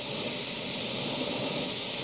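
An airbrush sprays violet paint in a steady, continuous hiss that holds at an even, fairly loud level from start to finish, close up, with no talking.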